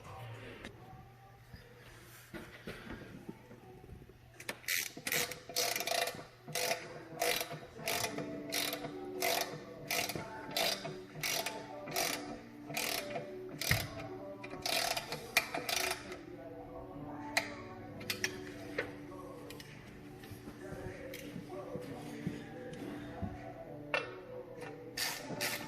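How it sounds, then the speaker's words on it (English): A torque wrench ratchets while tightening intake manifold bolts on a G-body car build, delivering rapid bursts of crisp clicks in repeated runs with pauses between, close up over faint background noise. "So we're going to torque this to factory specs with our torque wrench."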